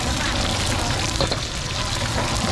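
Food deep-frying in very hot, bubbling oil at a busy Thai street stall cooking pad thai and fried oyster dishes gives a loud, dense, continuous sizzle with no pauses.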